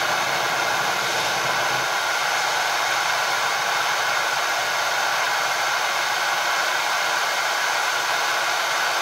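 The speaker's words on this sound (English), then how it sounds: "So the torch is lit." A lit torch roars with a steady, even hissing rush of flame while an oil-dipped 6-32 screw is heated in the fire, continuous and close without pauses.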